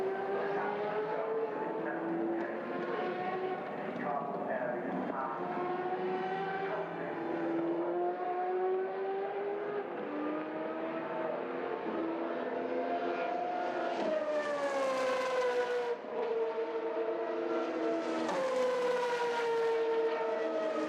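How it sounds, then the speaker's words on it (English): Formula 3 race cars at Silverstone during the 2017 season, heading out for a race while the British national anthem plays: a sustained, loud engine whine that rises in pitch and revs higher toward the end, with no talk. "The sounds of the British national anthem drowned out by the cars coming out ready for the next race of the weekend here at Silverstone"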